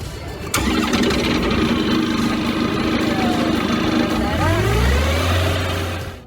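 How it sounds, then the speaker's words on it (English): A sawmill's 30-horsepower Honda engine cranks and catches with a sharp onset, then runs loud and close as a steady mid-pitched drone, its tone dropping and settling into a rough idle near the end. "Equipped with a 30-horsepower Honda engine and featuring bi-directional cutting capability"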